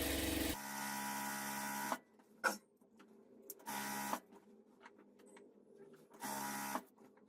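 A sewing machine double-stitches a pant seam in three loud, steady runs of whirring motor and needle, separated by quiet pauses with faint clicks and handling noises.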